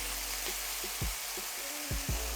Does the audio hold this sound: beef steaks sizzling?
yes